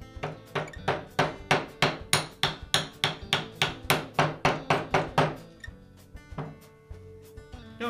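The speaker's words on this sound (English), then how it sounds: "I'll seat the bearing back onto the armature shaft using a socket that has a diameter the same as the diameter on the inner bearing race." A bearing is driven onto an angle grinder armature shaft with a socket, about twenty sharp, evenly spaced metallic hammer taps ringing close and loud before a few scattered, lighter knocks.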